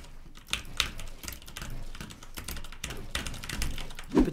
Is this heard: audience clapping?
no